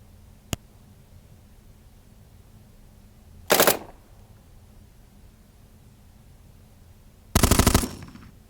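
Two loud, harsh bursts of a Gauss cannon firing in a strategy video game, each about a third of a second long and several seconds apart, with a faint click before them over quiet background hiss.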